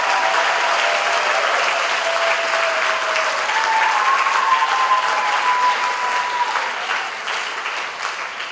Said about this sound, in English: I ask you to offer them your gratitude now in applause